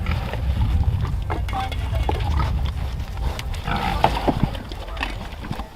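Pigs grunt and snort at close range amid rustling and shuffling, with a few sharper squeals toward the end.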